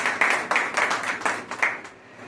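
An audience claps at an Aam Aadmi Party farmers' wing workers' conference in Jhansi, with a short run of uneven, moderately loud claps in loose bursts that thin out near the end.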